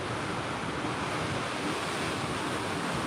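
Rough Pacific Ocean surf breaking along the Northern California coast under a tsunami advisory, a steady broadband roar with wind buffeting the microphone throughout.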